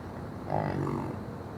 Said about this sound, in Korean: 울음소리도 소와 달리 꿀꿀거리는 특이한 소리를 낸다.